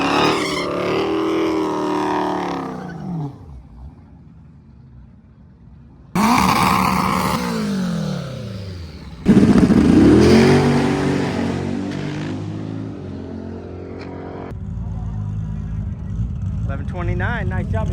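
A drag race car roars off down the track during SpeedFest prep, its engine revving hard in several loud rising bursts with brief lulls between, while a commentator talks over it.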